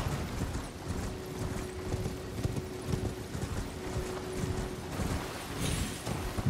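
A horse gallops in the video game Elden Ring, giving a continuous, close stream of rhythmic hoofbeats at a moderate level with a faint mechanical clatter underneath.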